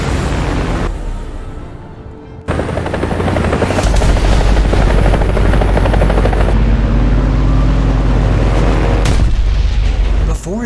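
Loud, steady helicopter rotor drone from modern helicopters in War Thunder fighting biplanes with missiles, with game-style booms and bursts mixed in, continuous from start to end.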